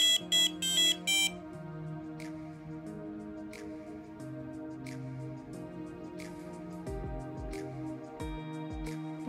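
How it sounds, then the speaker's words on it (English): Piezo buzzer on a Maker Pi RP2040 robot controller board gives a quick run of four sharp, loud beeps at the start, then a softer layered electronic tone carries on to the end. "It also has a piezo buzzer with on and off switch"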